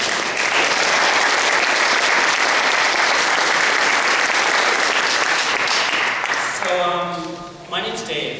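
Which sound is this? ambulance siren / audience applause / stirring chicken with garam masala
audience applause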